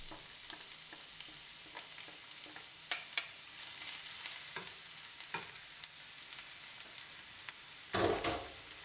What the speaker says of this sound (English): Heat up your pan and start frying your ginger, onions and garlic, which have been chopped in advance